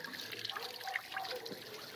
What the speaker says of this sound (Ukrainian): І вода стікає.